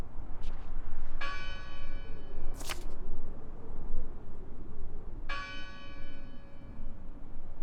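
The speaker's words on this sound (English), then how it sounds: "Listen! The bell!" Church bell in the Draugen video game, struck twice with several seconds between strikes, each a bright ringing tone that lingers and fades over a rumbling ambient background.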